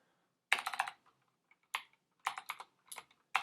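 Keystrokes clatter on a computer keyboard in short irregular bursts of rapid clicks separated by pauses, close and fairly quiet with no talking.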